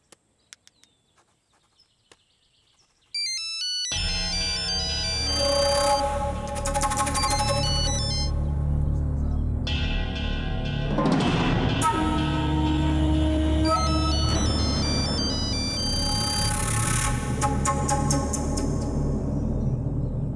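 A mobile phone ringtone goes unanswered in a Bhojpuri family drama scene, playing a loud, continuous melodic tune for roughly seventeen seconds after a few faint clicks at the start.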